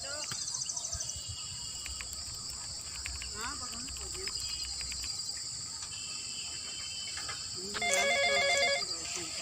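A phone ringtone rings again and again with no answer, a repeating electronic tune over steady cricket chirping.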